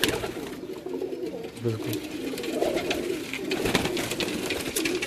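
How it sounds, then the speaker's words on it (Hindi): Teddy pigeons, also called commando teddy, coo steadily at a pigeon keeper's home in Multan, with a low murmuring bird chorus running throughout and someone talking over it. "ये उनके घर का टेडी कबूतर है"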